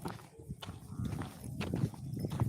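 Buffaloes walk close by along a rural path, hooves thudding in a loose irregular rhythm, fairly faint, with a little background voice.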